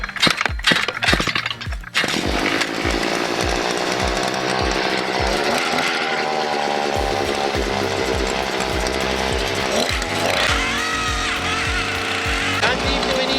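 A powered auger bores a fence post hole on a homestead perimeter, its engine droning loud and steady throughout with grinding, rattling bursts from the bit in the soil.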